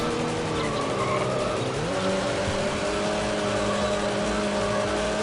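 Race car engines roar and rev continuously on a track in Need for Speed: High Stakes on PC, loud and close, with shifting engine pitch and tyre noise throughout.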